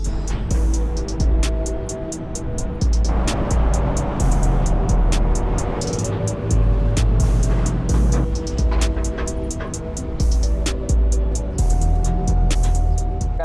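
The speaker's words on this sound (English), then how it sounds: "we're gonna go ahead and start driving to the muffler shop" A Ford Mustang with a built motor drives along, its engine giving a steady, loud rumble throughout, broken by repeated sharp clicks or taps and small shifts in load. Nobody speaks.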